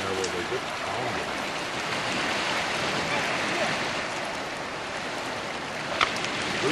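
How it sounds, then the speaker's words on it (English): Ocean waves pound the shore below, a steady broad wash of surf heard from a distance at a moderate level, continuous without clear individual breaks. "Listen to the waves crashing."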